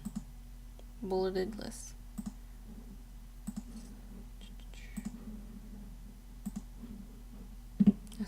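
Mouse clicks selecting an icon in a word processor: a few sharp, soft, isolated clicks spaced several seconds apart, under and between a quiet speaking voice.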